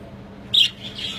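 Budgerigars in a breeding stud aviary let out one sharp, bright squawk over a faint background of quieter chirping.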